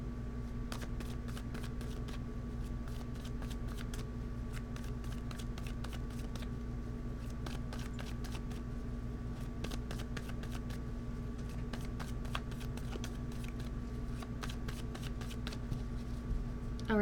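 A tarot deck is shuffled repeatedly, giving quick, crisp riffling flutters in bursts over a steady low background hum, close to the listener and with no voice heard.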